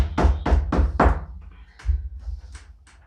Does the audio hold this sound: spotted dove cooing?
no